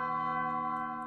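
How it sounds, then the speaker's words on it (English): Church bells in the video game Undertale ring as a sustained, resonant metallic tone with layered overtones, steady and clear without any talking over it. "What's with the bells?"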